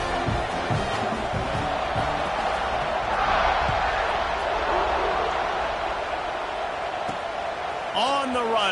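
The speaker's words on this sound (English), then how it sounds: "this crowd is buzzing after that last score" In the College Football 26 video game, a stadium crowd buzzes with a steady, broad murmur and scattered cheers, while a commentator talks over it throughout.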